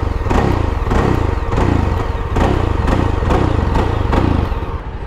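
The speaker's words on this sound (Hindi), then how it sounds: "तो थोड़ा इसका एग्जॉस्ट नोट सुन लेते हैं।" Exhaust of a Yezdi Scrambler 334cc motorcycle, loud and close, thumping in a steady pulsing rhythm with repeated surges, as if the throttle is blipped several times.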